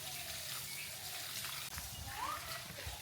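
Water runs from a pipe into a village tank in a steady, faint trickling wash, with a slight gurgle partway through and no voices.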